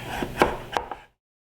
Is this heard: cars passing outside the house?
no